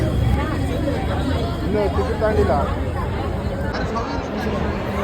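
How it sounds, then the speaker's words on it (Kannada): Large crowd chatter on the approach to a cricket stadium before an RCB match, a dense, steady babble of many voices filling the space without pause throughout. "ತುಂಬ ಅಂದರೆ ತುಂಬ ಕ್ರೌಡ್ ಇದೆ ಗೈಸ್."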